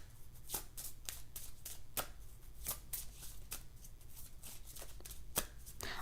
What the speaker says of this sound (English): I'm gonna pull one more card